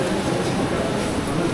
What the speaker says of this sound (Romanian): Trenulețul Brazei a pornit.